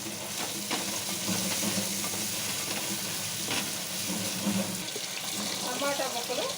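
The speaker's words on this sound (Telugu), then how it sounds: "టమాటా ముక్కలు ఆయిల్లో ఫ్రై చేసుకున్నానండి." Tomato pieces and prawns fry in hot oil for a prawn curry, giving a dense, continuous hissing sizzle that stays loud and even, with faint stirring scrapes underneath.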